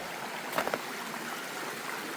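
A stream flows beside a trail campsite on the Appalachian Trail in North Carolina, giving a steady, soft rushing wash throughout with a few brief clicks or splashes near the start.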